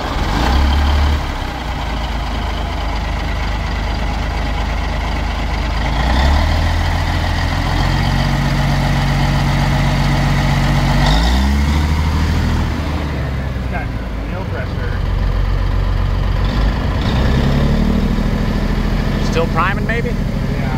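A truck engine idles steadily and loudly while building pressure, a continuous low rumble under people talking nearby.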